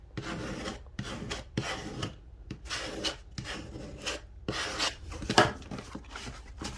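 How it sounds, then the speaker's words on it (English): Paper is scraped down firmly over adhesive on a notebook cover in a series of short, rasping strokes, each one a brief rough rub, repeated rhythmically at close range and fairly quiet. "Scrape it down, make sure that adhesive is on there good."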